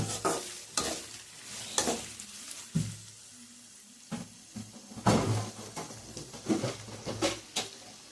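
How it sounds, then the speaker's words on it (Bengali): Shredded potato (jhuri aloo) fries in oil on a high flame while being stirred, a steady close sizzle broken by repeated scraping strokes of the spatula against the pan. "এইভাবে আমি এবারে ভেজে নেব নর্মাল টু হাই ফ্লেমে রেখে ভালো করে নাড়াচাড়া করে ভেজে নেব"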